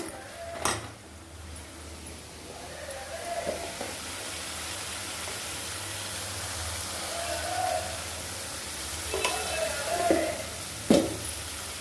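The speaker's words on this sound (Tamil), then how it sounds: "வெங்காயம் தக்காளி எல்லாமே நல்லா வதங்கிட்டு" Steady low sizzling of onions and tomatoes sautéing in a pan, with occasional clinks and scrapes of a utensil against the pan.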